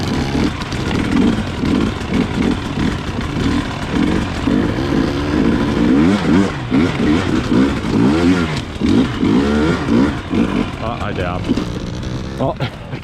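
A dirt bike engine revs and surges while being ridden, loud and close, rising and falling continuously over about thirteen seconds with wind noise mixed in.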